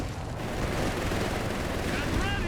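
Dense, rumbling heavy gunfire and shelling from the real-time strategy video game Company of Heroes 3, a continuous wash of battle noise with no clear gaps between shots, heard without talk.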